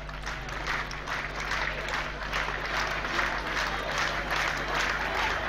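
Crowd in the street applauding, a continuous mass of clapping heard at a distance over a steady low background hum, without clear individual claps.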